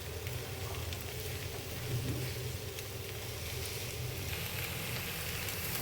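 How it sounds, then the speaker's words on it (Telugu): Okra fries in a pan with a continuous, even sizzle and crackle, close and moderately quiet, steady throughout without pauses. "ఒక పక్క బెండకాయ ఫ్రై అవుతూనే ఉంది"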